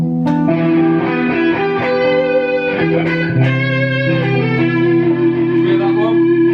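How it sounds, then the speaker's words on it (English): Electric guitar plays arpeggio notes over sustained chords, with the arpeggios starting on upper chord tones rather than the root, through effects and light distortion; steady, loud and melodic with no talking. "You don't have to always start at the bottom of those arpeggios, so then it would sound like this."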